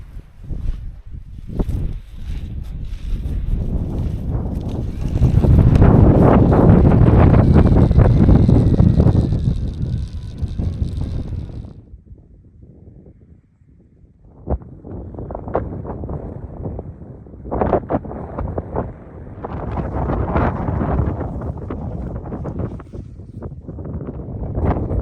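Gusty wind in the Lake District mountains buffets the microphone in loud, roaring surges, easing briefly before picking up again in rough bursts.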